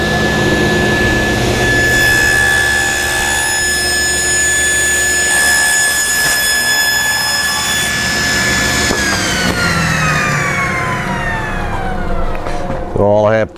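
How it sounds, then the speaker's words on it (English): A table saw with a crosscut sled slices a wide piece of wood for a curved blockfront lowboy; a loud steady motor whine runs throughout, the blade pitch dropping as it spins down near the end. "I'm using my table saw sled here because it's a little bit too wide for my chop saw"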